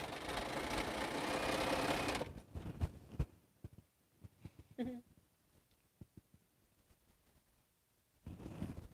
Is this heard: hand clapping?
no